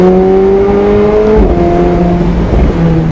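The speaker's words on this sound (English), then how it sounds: "This car sounds so good. Oh my god, the backfires." A McLaren 765LT Spider accelerates hard on the road, its engine note climbing loudly and steadily up close, with gear shifts and sharp crackles that fit exhaust backfires.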